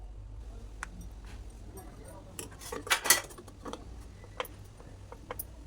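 A spoon stirs salted food in a pan, giving faint, scattered metallic clinks and scrapes with a short cluster of louder taps in the middle, over a low background hum.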